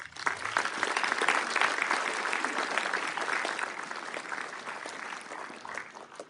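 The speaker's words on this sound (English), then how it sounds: "can we please have a big round of applause for the candidates?" A crowd at a mayoral candidates forum breaks into sustained applause, dense clapping that swells at first and then slowly thins out over several seconds.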